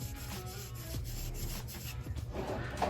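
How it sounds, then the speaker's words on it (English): A cleaning patch smearing two drops of lubricant onto an AR-15 charging handle gives a steady, close, soft rubbing and scrubbing texture that runs continuously and alone, with no talking. "Take that cleaning patch, just smear it in."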